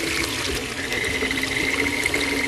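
Cookie batter ingredients churn in a running blender with a steady, dense whirring and sloshing that holds unbroken throughout, close and without speech.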